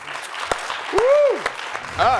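Studio audience applause on a television comedy game show, a dense burst of clapping running throughout with rising tonal sound effects layered over it.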